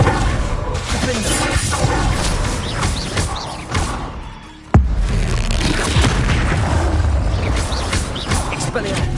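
Confringo blasting curse explosions in a Harry Potter video game: booming blasts and crashing debris amid dense spell effects, loud and continuous, with a voice speaking over the action.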